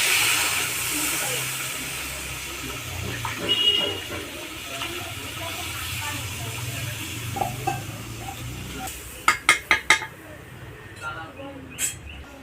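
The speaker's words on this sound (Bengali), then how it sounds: "পরিমাণ মতন জলটা দিয়ে দেবো।" Water is poured into a hot pan of cooked-down fish curry with taro root, bringing a loud steamy hiss that fades gradually, followed by a few sharp clinks near the end.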